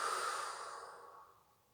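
A long, soft exhale blown out through the mouth during an abdominal exercise, a single breathy rush that fades gradually, close and quiet with no talk.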